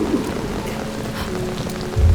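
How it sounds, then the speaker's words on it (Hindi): Steady rain pours down through an outdoor scene, a dense even hiss of drops hitting surfaces throughout, with a low rumble swelling near the end. "यहाँ बारिश में क्यों खड़ी हो?"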